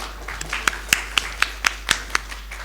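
A lone pair of hands claps about nine times in an even, steady rhythm at a conference session, close and distinct over a quiet room with no talking.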